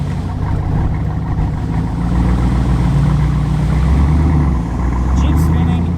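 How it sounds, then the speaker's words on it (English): A Jeep Wrangler and a 2023 Toyota Sequoia TRD Pro with engines revving hard as their wheels spin in mud, a loud, continuous droning roar that swells and eases but never breaks. "Jeep spinning. Sequoia spinning. It's not going anywhere."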